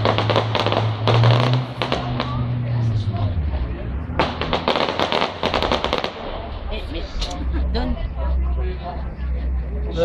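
A fireworks display in Valbonne on 13 July 2013 sends out dense, rapid crackling bursts in clusters, with people talking throughout and a vehicle engine droning low underneath.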